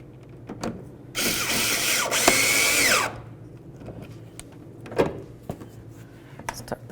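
A power driver runs a mounting bolt under the front of a 2008-2013 Nissan Rogue during headlight assembly replacement, giving one loud two-second whir that winds down, with faint clinks and shop noise around it.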